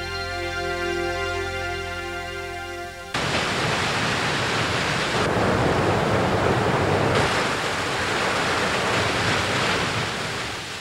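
Broad, steady roar of ocean waves and surging water, loud and continuous for about eight seconds, following a sustained musical tone at the start, with no speech.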